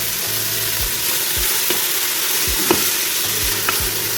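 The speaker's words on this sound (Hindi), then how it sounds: "मैंने इसे अदरक लहसुन और प्याज को हल्का सा मैंने फ्राई कर लिया" Ginger and garlic paste and onion fry in a pot for a mutton paya dish, giving a steady, close, dense sizzle with occasional stirring knocks and no talking.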